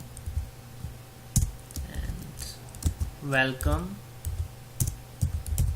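Java code being typed on a computer keyboard, scattered key clicks and taps in short bursts at close range, under and between a man's speech.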